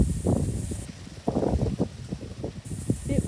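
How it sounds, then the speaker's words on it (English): Wind gusts buffet the microphone in an autumn vegetable garden with raspberries, tomatoes and zucchini, making a loud, rumbling, uneven whoosh in repeated surges over a faint background hiss. "Bit windy, sorry about that."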